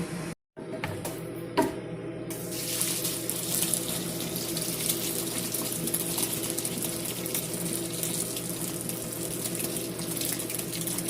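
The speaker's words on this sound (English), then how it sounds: "Alright, looks like the noodles are al dente and time to rinse and cool and strain." Tap water runs steadily over cooked al dente noodles in a sink, a continuous loud gushing rinse after a brief start, with no talking.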